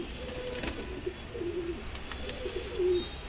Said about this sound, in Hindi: देखिए, ये हमारे सारे कबूतर।